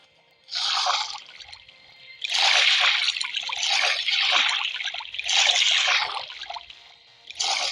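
Water is poured in several separate bursts, each a few seconds of close trickling and splashing, with short quiet gaps between pours.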